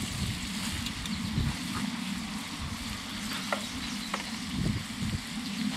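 Steak frying in a dutch oven gives a steady, close sizzle and crackle, with occasional sharper pops rising above the continuous hiss.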